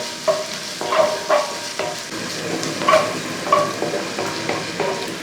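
Finely chopped ginger and garlic fry in a pan, with a steady close sizzle broken by a few light clinks and scrapes as a utensil stirs them.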